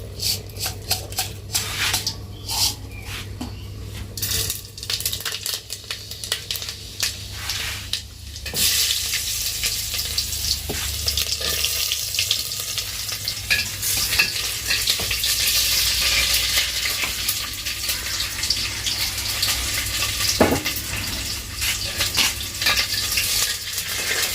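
Chopped onions, dried chillies and five-spice seeds fry in hot oil, giving a steady, loud sizzle with stirring scrapes and occasional clinks throughout, and no talking.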